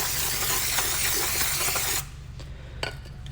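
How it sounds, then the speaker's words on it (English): Aerosol can of brake cleaner spraying onto electric scooter parts, a loud, steady close hiss that stops abruptly after about two seconds and is followed by a few faint clicks. "First, remove dirt with brake cleaner."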